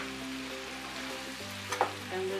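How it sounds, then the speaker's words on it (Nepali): Pre-fried chili momo tipped into a hot pan, a steady oil sizzle with a short clatter partway through. Faint tonal background sounds run underneath. "ल अब अघि फ्राई गरेर राखेको मोमो यसमा राखिदिउँ।"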